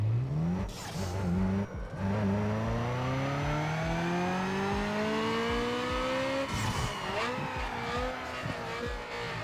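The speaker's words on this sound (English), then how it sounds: "Okay, dyno run." A car engine revs hard on a dyno run in the 2004 racing game Need for Speed Underground 2, its loud pitch climbing steadily for several seconds, briefly dropping, then rising again, with no talk.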